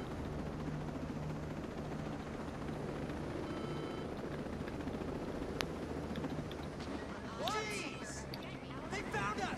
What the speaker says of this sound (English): Don't want this helicopter to crash.